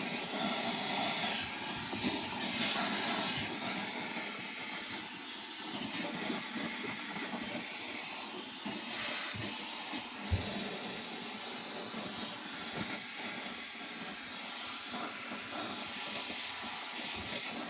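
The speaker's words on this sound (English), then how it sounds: "So I'll just use the steam" A clothes steamer hisses continuously for the whole stretch, a steady loud rush of steam with a few sharper spurts and no talking.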